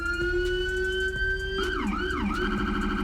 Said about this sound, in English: and you can start going through the sirens like this.